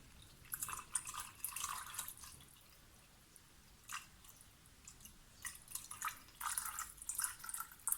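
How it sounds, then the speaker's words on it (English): Water poured slowly into a container on a scale while mixing homemade sanitizer spray, heard as faint, intermittent trickles and drips in short bursts against a quiet background. "I'm going to add the 250 mils of water"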